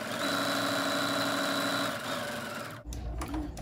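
A sewing machine stitches along the side of a pleated fabric face mask, a loud, steady mechanical whir with a rapid needle rhythm that runs for nearly three seconds, then stops abruptly and leaves a few quieter handling clicks.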